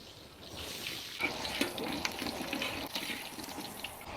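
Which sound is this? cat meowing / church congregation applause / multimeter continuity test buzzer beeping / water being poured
water being poured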